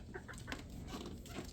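Backyard chickens clucking in a small coop, several soft, short clucks close by in a quiet space, with no talk.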